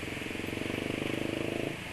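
A motorcycle engine idles roughly at low RPM, a quick, even chugging pulse that stays faint and steady throughout.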